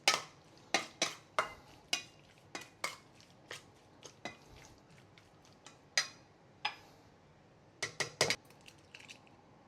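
Belacan pork belly marinade with fine sugar being mixed in a bowl, giving a series of sharp utensil clinks and scrapes at an irregular rhythm, close and fairly quiet with no talk.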